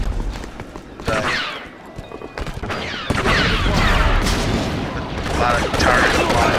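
Blaster gunfire in the video game Star Wars Battlefront on the Rhen Var citadel map, dense bursts of rapid shots and booms that build into a sustained loud barrage near the end.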